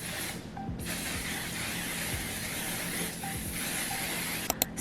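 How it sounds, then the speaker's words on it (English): Makeup setting spray from an On Until Dawn bottle, misted onto a face, gives a steady broadband hiss that runs almost continuously, faint and close, with a few soft clicks near the end. "we're gonna finish off with the On Until Dawn setting spray."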